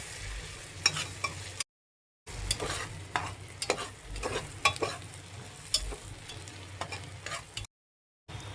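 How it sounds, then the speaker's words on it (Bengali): Food stirred in a pan while cooking khichuri with green chillies, soft frying sizzle under repeated scraping and clacking strokes of a spatula, fairly quiet and close, with two brief silent gaps and no talk. "ভালো মতো নাড়াচাড়া করে নিতে হচ্ছে।"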